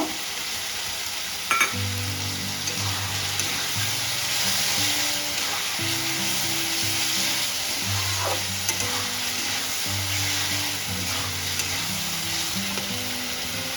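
Large cut capsicum fries in a well-cooked spice paste, sizzling steadily close by for the whole stretch while a utensil stirs and scrapes now and then, with no one speaking.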